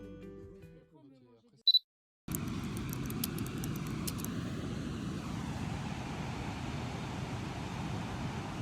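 A converted camper van travels a road along the Moroccan coast toward Essaouira, its steady engine and road rumble starting abruptly after a short quiet stretch and holding constant and close throughout, with no talk over it.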